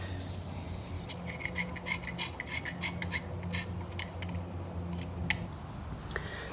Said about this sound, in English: gonna scrape all that bit off too and replace this gasket